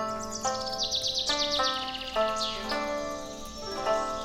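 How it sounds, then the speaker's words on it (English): A nightingale's song in a children's stage performance of the Nightingale story, heard as bright warbling trills and whistled phrases, steady and moderately loud over faint background hum, with no talking. "This must be the Nightingale this time."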